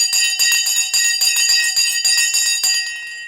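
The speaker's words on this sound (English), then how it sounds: "Let's ring the Sensei bell." A bell rung on a live stock market stream clangs in a rapid, steady series of about twenty bright, loud strikes, ringing out alone before the last tones fade.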